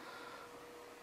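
A home washing machine runs steadily in the background, a faint continuous hum and whir with a thin mechanical tone, no speech over it.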